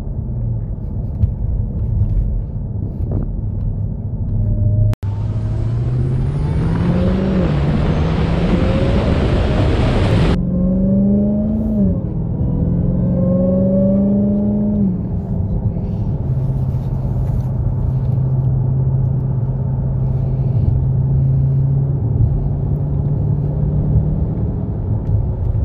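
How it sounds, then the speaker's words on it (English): A Hellcat widebody with a JLT intake drones loudly and steadily, overlaid by a supercharger whine rising and falling with revs, with a burst of wind-like hiss partway through. "test the loudness of the supercharger as compared from the outside to the inside"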